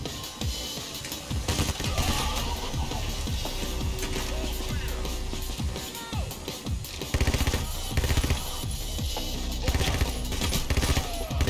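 Sustained automatic gunfire in the Payday heist shooter, rapid loud bursts rattling almost continuously over game ambience, with a few brief pauses between volleys.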